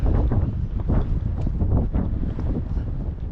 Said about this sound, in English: But the wind's changing